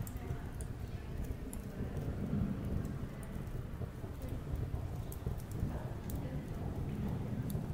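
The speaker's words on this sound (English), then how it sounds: "It was one of those rare November days where the wind was strong and the rain was cold" Cold November rain pouring steadily during a windy storm, a constant dense hiss with low rumbling underneath, fairly faint and even throughout.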